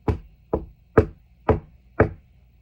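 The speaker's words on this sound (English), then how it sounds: "He knocked at the door" Five evenly spaced knocks on a wooden door, close and fairly loud, with a short pause between each rap and no voices.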